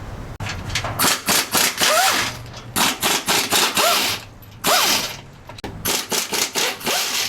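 A ratchet working on the transmission cooling lines of a 2025 Cadillac Escalade, giving repeated rhythmic clicking strokes in short bursts with brief pauses, close and fairly loud.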